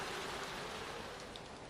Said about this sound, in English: Rain keeps falling.